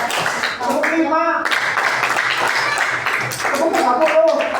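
Hand claps in a primary-school arithmetic lesson sound as short, sharp bursts mixed in with a speaking voice.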